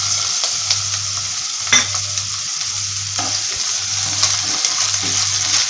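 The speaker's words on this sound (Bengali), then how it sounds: "পেঁয়াজ কুচিকে আমি ভালোভাবে নাড়াচাড়া করে নেব।" Chopped onion stir-frying in hot mustard oil in a wok gives a steady close sizzle, broken by repeated scraping stirs of the spatula at roughly one-second intervals.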